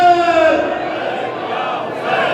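A large crowd at a religious celebration in a Lahore imambargah chants a slogan in unison, a loud, sustained collective cry that swells and holds for a couple of seconds.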